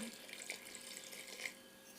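Water runs and splashes steadily into a cooking pot, a soft continuous pouring sound, quiet and close, with no voices.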